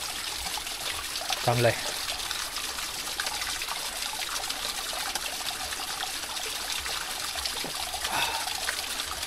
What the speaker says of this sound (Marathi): बरं झालं पावसाळा आहे म्हणून आपल्याला हे वाहतं पाणी भेटलं पियायला.